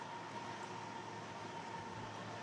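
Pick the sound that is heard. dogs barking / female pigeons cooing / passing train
passing train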